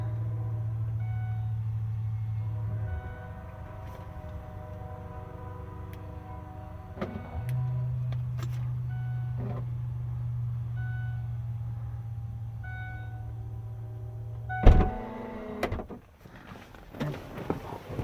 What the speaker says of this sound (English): Rear hatch opens. It's got the power rear hatch.